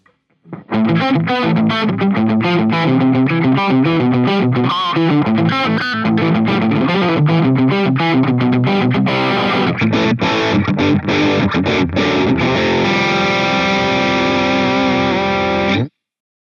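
Heavily distorted Charvel electric guitar through a BIAS Mini amp modeler playing chugging riffs and chords, loud and sustained, ending on a long ringing chord with no talking.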